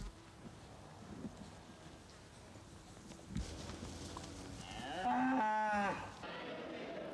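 A Normandy cow on a Pays d'Auge farm in 1985 lets out a single loud, drawn-out moo near the end, after quieter farmyard rustling and a low background rumble.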